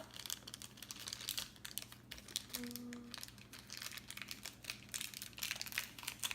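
Plastic packaging of a mini microphone bought at Best Buy being opened and handled, a continuous close crinkling and rustling with a few soft taps, quiet and without talk.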